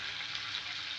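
Chicken frying in a pan for a chicken fry dish, a steady broadband sizzle with faint crackles, continuous and close with no talk over it.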